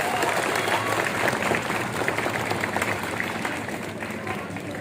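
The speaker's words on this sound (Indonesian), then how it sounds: "Tepuk tangan dulu buat kita semua." Audience applause fills a hall during the opening of a high school (SMA-SMK) student orientation in South Sulawesi, steady dense clapping sustained throughout with crowd noise and no pause.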